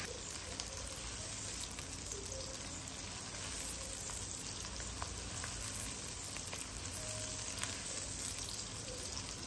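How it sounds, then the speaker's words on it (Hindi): Onions frying lightly in about half a cup of oil for matar keema, a steady, even sizzle that holds at moderate level throughout with no talk. "उसमें तेल हमने डाला जैसे आधा कप है, और 2 छोटे साइज़ के प्याज डाल दिए। इसको हल्का सा भुनेंगे।"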